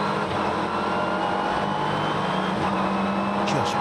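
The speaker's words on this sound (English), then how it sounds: "Listen to this engine, this V8 in this car." Onboard a Ginetta GT4 race car at Silverstone, its V8 engine loud and raw under throttle, a continuous droning roar with a rising pitch sweep near the end.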